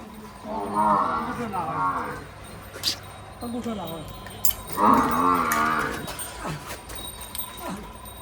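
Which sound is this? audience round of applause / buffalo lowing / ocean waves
buffalo lowing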